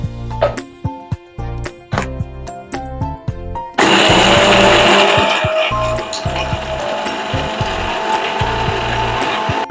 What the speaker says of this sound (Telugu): ఇప్పుడు మనం వీటన్నిటిని కలిపి మెత్తగా మిక్సీ పట్టుకుందాము